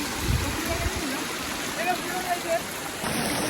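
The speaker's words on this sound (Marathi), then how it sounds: "हा बघा छोटासा दिसतोय बघा वॉटरफॉल." A small hidden waterfall stream in Kharghar during monsoon rushes with a continuous, close, broadband splash and gurgle, while a person speaks briefly over the water.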